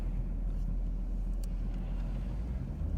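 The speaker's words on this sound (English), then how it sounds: "It's a couple of trucks." A couple of trucks roll past on a snowy, barely plowed Ohio country road, a steady low rumble of engines and tires heard from inside a car, with no talking.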